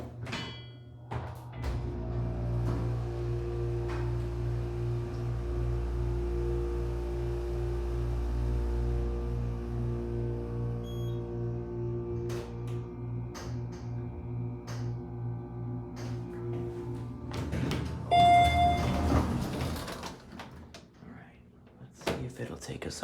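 A modernized hydraulic elevator at a library in Selden, New York runs with a steady low pulsing hum, followed near the end by clunks and thuds as the door operates.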